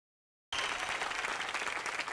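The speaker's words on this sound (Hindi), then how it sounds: "तो जोरदार तालियों से स्वागत कीजिए" A television studio audience bursts into sudden, dense applause welcoming actress Richa Chadha onto a comedy show, steady and loud from the start after a moment of silence, with no talking.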